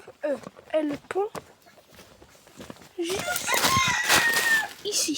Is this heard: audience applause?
no